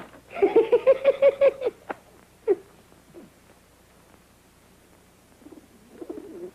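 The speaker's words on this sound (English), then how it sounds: "A pigeon." A pigeon coos in a rapid burst of soft, rolling calls, then gives a few scattered fainter notes before falling quiet. It is heard alone, with no speech.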